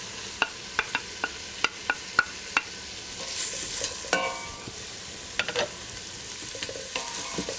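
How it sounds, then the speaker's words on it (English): Chopped vegetables and bacon hit melted butter in a large pot, starting with a run of sharp clinks and stirring taps, then a soft steady sizzle with a few scrapes. "Add the chopped vegetables and bacon to the melted butter."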